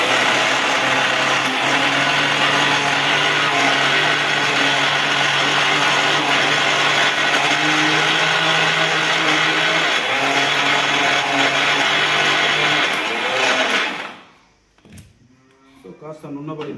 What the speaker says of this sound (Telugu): ఇప్పుడైతే నేను ఈ రాళ్ళ ఉప్పుని మిక్సీలో వేసుకొని ఆడించుకోవడం జరుగుతుంది.